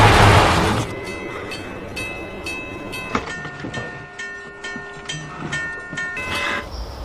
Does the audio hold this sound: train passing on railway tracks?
yes